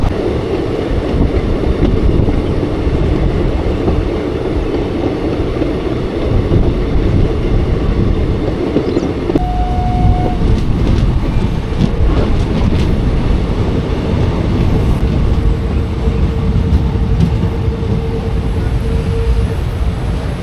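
An evening passenger train on the scenic Bodinayakanur to Madurai route rumbles steadily between Bodi and Theni, with loud, continuous low wheel and carriage noise, occasional rattles, and a faint tonal whine midway.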